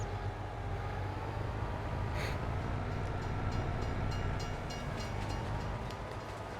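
A freight train rolls past in the Farming Simulator game's Silverrun Forest map, a steady rumble of wagons with faint metallic clatter and a brief squeal partway through, continuous and fairly close with no talking.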